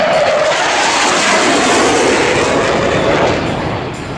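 A fighter jet roars past loudly at an airshow, a broad rushing engine noise that holds steady and then begins to fade away.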